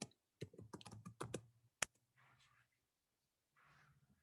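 A password is typed on a computer keyboard as a quick burst of close key clicks, followed by one sharper tap and then faint soft rustling with pauses in between.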